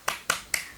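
Three sharp claps from a class doing the tepuk semangat clapping chant, evenly spaced at a quick steady rhythm, close and crisp with no voices over them.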